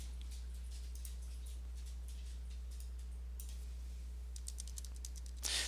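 Typing on a computer keyboard while entering a command on a Debian Linux system: faint, quick bursts of key clicks over a steady low hum, ending in a slightly louder clatter.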